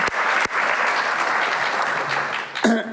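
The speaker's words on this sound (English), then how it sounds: "So give them a round of applause." Audience applause at a campus summer program's culminating event, a loud, dense burst of clapping that fills the whole moment evenly from start to finish.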